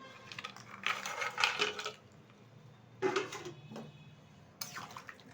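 Fried bhangan fish and lentil bori being stirred in a pan over medium-low heat, with three separate bursts of scraping, clinking spoon-on-pan sounds, close and moderately loud, between quieter pauses.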